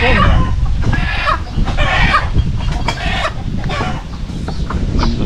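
Chickens cluck in repeated bursts close by, with a rooster-like call mixed in over steady low outdoor rumble during a peanut harvest.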